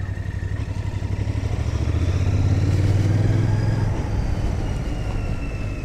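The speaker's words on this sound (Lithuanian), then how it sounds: "Tai kaip ir variklis švilnus" A 2025 Royal Enfield Bear 650 motorcycle engine runs with a smooth low throb that swells into a louder, steady drone midway before easing back, close by with no talking.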